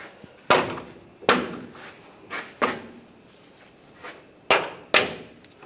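Sharp metallic hammer taps on the front bolt of a 2011-2018 Ram 1500 lower control arm, six separate strikes spaced unevenly, close and ringing briefly, with no talking.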